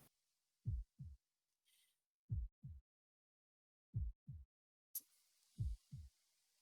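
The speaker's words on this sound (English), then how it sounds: "That heartbeat." Heartbeat sound effect from the Fate/Stay Night Heaven's Feel video game: four slow, deep double thumps in a steady lub-dub rhythm, each pair well separated by silence. A brief soft hiss and a burst of airy noise appear between beats.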